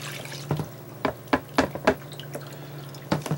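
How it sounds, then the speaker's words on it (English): Thawed frozen bloodworms and water poured through a brine shrimp net, heard as a series of close, distinct drips and splashes over a low steady hum. "pour all this through the brine shrimp net."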